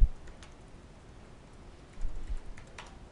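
A password goes in on a computer keyboard: a short run of soft, close key taps, a few distinct clicks spread unevenly over about three seconds against a quiet background.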